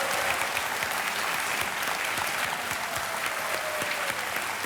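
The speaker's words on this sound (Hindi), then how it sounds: "तालियां बजती रहें जोर से" A studio audience on a televised quiz show claps loudly and steadily without a break, the applause filling the room evenly throughout.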